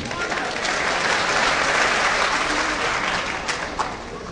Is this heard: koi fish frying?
no